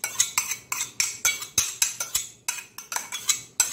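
A spoon scrapes creamy mango mixture for buns into a bowl in a series of about fourteen quick, regular strokes, each a bright scrape and clink, close and clear with no talking.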